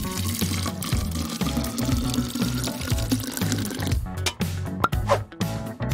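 Soda poured into a bottle of water beads, a continuous gurgling, splashing liquid pour under bouncy background music, ending with a few bubbly glugs.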